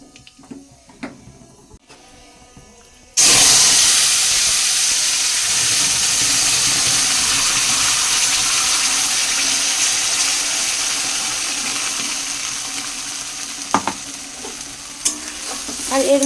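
Spinach paste ground with garlic and green chilli sizzles in a pan with black cumin, starting abruptly after quiet clatter, a loud close frying hiss with occasional stirring knocks and scrapes near the end.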